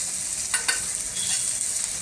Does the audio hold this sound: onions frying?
yes